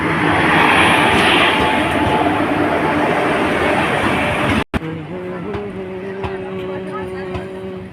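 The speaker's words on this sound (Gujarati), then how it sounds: "તો ફાઇનલી ટ્રેન હવે આવી ગઈ છે" A train bound for Bhavnagar pulls into a station with a loud, close roar and rumble, then an abrupt cut leads to quieter carriage hum with people talking.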